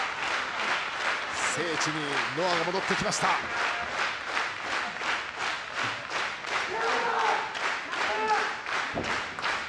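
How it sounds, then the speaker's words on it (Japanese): A pro wrestling crowd at a NOAH match breaks into rhythmic unison clapping, loud and evenly pulsed throughout, while a commentator talks over it. "お聞きくださいこの拍手"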